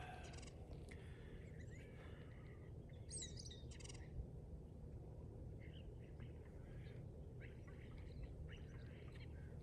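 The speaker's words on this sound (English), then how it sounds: "There's some little birds and stuff going on." Small birds chirp in scattered, faint bursts over a steady low outdoor hum on a morning in Lillooet, with soft tweets coming from some distance and no talk.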